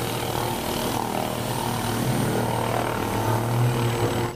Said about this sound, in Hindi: देखो गाइस ये है एक हेलीकॉप्टर